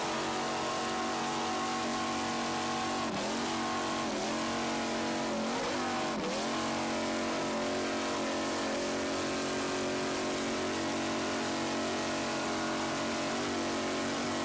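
A roaring racing powerboat engine with stern drive, an A-Class boat in the 1993 Islamorada offshore race, drones steadily and loudly for the whole stretch, its pitch dipping and rising briefly a few times near the middle.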